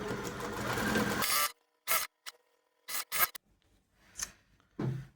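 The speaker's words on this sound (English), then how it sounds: "Now I'm going to top stitch from the right side" A sewing machine top stitches a scant quarter-inch seam on a wash day hat with enclosed seams. It opens with a loud, steady run of close whirring, then gives several short bursts with silent gaps between.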